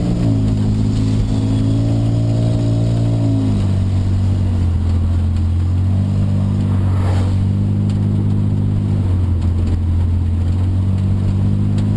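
A car with newly fitted suspension and an intermittent idle air control fault drives along a road, its engine droning steadily and loudly from inside the cabin, the pitch shifting as the revs change.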